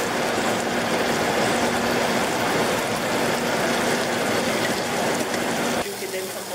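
A steady, loud broadband whoosh of a kitchen vent fan running continuously, with a faint low hum and a slight drop near the end.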